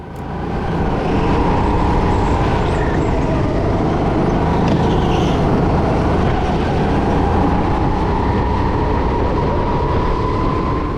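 A racing kart screams along the back straight at top speed in a kart race qualifying session, a continuous loud engine roar with a rising pitch sustained over rushing wind noise.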